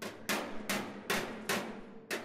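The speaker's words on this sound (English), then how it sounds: "keeping the pressure on my dolly a little bit to the left of the hammer, and kind of working that area." A metal hammer strikes sheet metal backed by a dolly during panel shrinking and low-spot work, five sharp ringing taps at an even, unhurried pace, close and alone.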